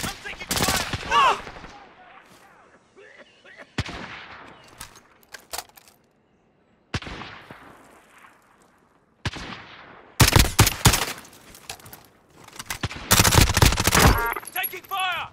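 Gunfire in the video game Warzone, loud bursts of rapid automatic fire and single shots in several separate volleys with short quiet gaps between them, some bursts very close and sharp, with brief game voice lines mixed in.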